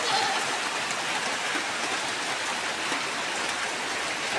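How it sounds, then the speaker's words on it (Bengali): Steady, dense rainfall hisses evenly throughout, heavy and continuous, with no voices. "বলতে বলতে বৃষ্টি নামে পড়ছে"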